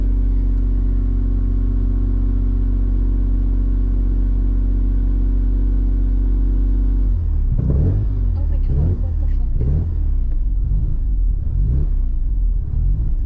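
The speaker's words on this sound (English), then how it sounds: "This does not sound like a proper driving car." A 1987 Mazda FC RX-7 rotary engine idles with a steady low drone, then runs roughly while driving, with uneven revving bursts and rumble; a person exclaims loudly over it.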